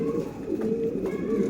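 Sialkoti chuhay pigeons coo softly in a low, rolling murmur, with a few repeated throaty calls close by.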